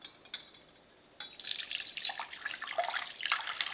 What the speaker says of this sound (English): And I'm straining through a jelly bag.